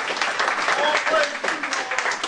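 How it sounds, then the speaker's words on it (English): Applause from a congregation at a Temple of Islam religious meeting, a dense continuous wash of clapping filling the room, with voices mixed in beneath it. "you hear all the applause going up"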